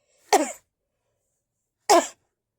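A voice imitates two short, forced coughs, each a single sharp burst, separated by a pause of about a second and a half.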